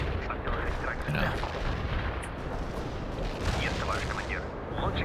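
Artillery barrage in the World in Conflict video game: a continuous dense roar of heavy explosions and rumbling blasts, loud and sustained throughout with crackling bursts layered on top.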